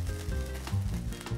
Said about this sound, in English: She stirs in the fish along with a little of the frying juices.